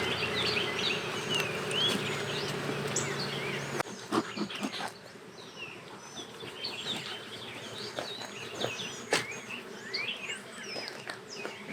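Honeybees from a nucleus colony hum in a low, continuous drone, close by and fairly quiet, with small birds chirping in the background.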